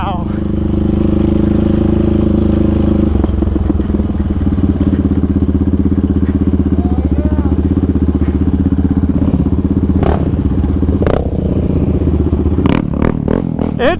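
A Yamaha Raptor 700 ATV fitted with hot cams races with a loud, steady engine drone that stays strong throughout, with sharp clattering bursts near the end and voices talking over it.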